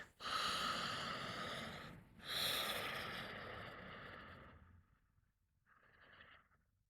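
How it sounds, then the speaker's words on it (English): A person draws strong, rushing breaths in through the nose, two long loud inhalations back to back, then a pause and a shorter, softer sniff. "And as you're breathing in through your nose"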